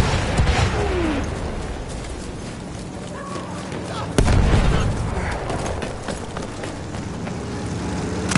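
Battlefield 1 artillery fire: a heavy close boom lands midway through a busy battlefield soundscape of scattered explosions, mechanical clatter and distant gunfire, with voices calling out.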